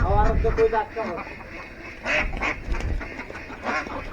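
Ducks quack in several nasal, repeated calls at close range at feeding time, mixed with a person talking over them.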